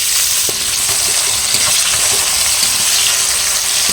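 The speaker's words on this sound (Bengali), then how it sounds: "এই তেলের মধ্যেই দিয়ে দেবো 5 ফোড়ন, পেঁয়াজ কুচি" Five-spice seeds and chopped onion sizzle loudly in hot fish oil, a dense steady hiss with a few light clicks of stirring and no voices.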